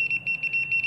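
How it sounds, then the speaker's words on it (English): Rapid, high-pitched electronic beeping pulses steadily at a fast rhythm matching 60 hertz line voltage, from a tester on a fluorescent light fixture, loud and close, with no voices. "So it's beeping a lot faster."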